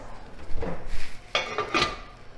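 Metal cooking pots clank and scrape, followed by a couple of sharp lid clangs, close and fairly loud.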